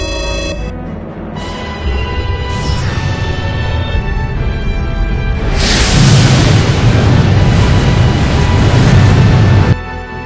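Enemy shot in the Star Ocean space game striking close to a spaceship: a deep, sustained rumbling blast that swells into a loud, roaring burst of noise lasting several seconds under a droning hum.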